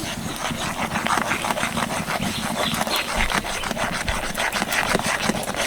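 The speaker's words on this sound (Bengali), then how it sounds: "এক হাতে কিন্তু খন্তি দিয়ে নাড়তে থাকবো" A spatula stirring milk powder in a pan for sandesh scrapes and rubs in quick repeated strokes, close and steady, with occasional soft knocks against the pan and no voices.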